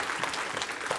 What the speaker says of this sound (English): Can I get an amen and a clap of hands for those people?